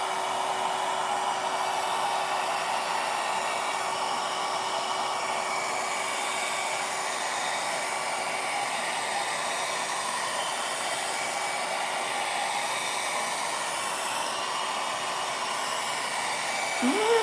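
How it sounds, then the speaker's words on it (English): A nail dryer hums and whirs steadily and fairly loud during nail work, a constant even drone with a faint tonal whine running throughout. "I don't know if you can hear me talking over this dryer or not."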